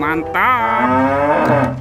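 A cow lets out one long, loud, close moo that holds steady before trailing off, with a brief word spoken near the end.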